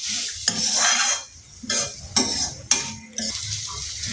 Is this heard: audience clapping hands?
no